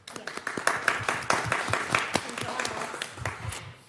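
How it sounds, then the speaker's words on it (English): Applause breaks out at a city council meeting in Clayton, California, a dense patter of many hands clapping steadily across the room, with a voice speaking over it at first. "we're going to clap."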